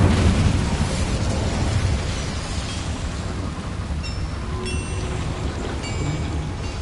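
An Incendio fire spell erupts in a Hogwarts video game inside a small mine, a loud, dense roaring burst that starts strong and settles into a sustained rumble with faint higher crackles.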